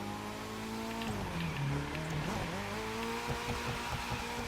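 A drift car in The Crew 2 video game, an RX-7, holds a steady droning engine note that dips and climbs through a slide, with tire scrub and a few rough pulses near the end.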